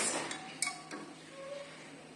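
Ice cubes dropped into a glass of fennel (saunf) sharbat give a few quiet, sharp clinks spaced close together, followed by a soft fading rattle.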